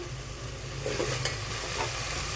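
Roasted masala fries in a little oil for mutton curry, giving a close, steady hiss and crackle with a few soft stirring scrapes and no talking.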